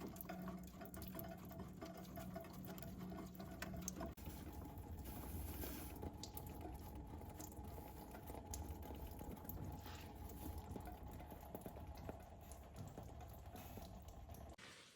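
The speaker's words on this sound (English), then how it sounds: "Outside is just a light drizzle, and in here it's absolutely pouring." Rainwater leaking through a chimney into a camp shelter, a steady broadband splashing and trickling that continues evenly throughout with no talk.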